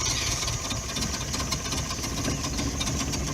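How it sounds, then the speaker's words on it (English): A cold Subaru boxer engine idles roughly, giving a steady, dense mechanical drone with uneven pulsing throughout, close and constant with no talk. "A bit rough on the idle at the moment,"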